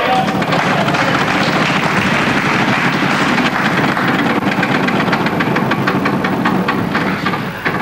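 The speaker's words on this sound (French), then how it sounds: "on lance la roue pour cette troisième partie" A French television game show wheel of fortune spins in a 1996 broadcast, giving a loud continuous whirring clatter of rapid ticks, with studio noise and a voice faintly underneath.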